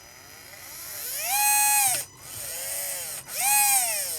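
Small electric RC car motor running through an FS R4D ESC: a whining hum that rises in pitch, holds, then drops, repeated twice with brief stops in between, close and clear.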